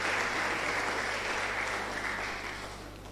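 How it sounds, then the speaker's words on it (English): An audience at a postgraduate interdisciplinary lecture series applauds in a hall, a continuous even patter of clapping that slowly fades over a few seconds, with a low steady hum beneath. "Please a round of applause."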